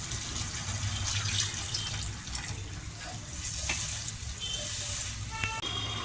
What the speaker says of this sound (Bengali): এবার একটু সামান্য পরিমাণে জল দিয়ে দেবো